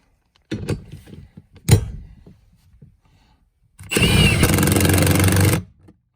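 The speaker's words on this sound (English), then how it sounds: "We're going to use an impact gun." An impact gun runs in one sustained burst of about two seconds, driving a seat track bolt on a 1979–2004 Foxbody Mustang or Cobra with a longer seat track extension kit, after a few scattered clanks of handling.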